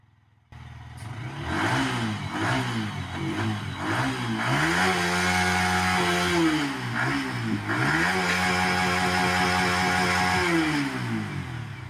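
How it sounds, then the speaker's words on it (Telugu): A motorcycle engine revs repeatedly on a road, rising and falling in loud, close pulls before holding a steady high rev, with no talking. "ఒకసారి సౌండ్ వినండి, మన రోడ్డు సౌండ్ ఇది ఆర్పిఎం చేస్తున్నాడు బైక్ది"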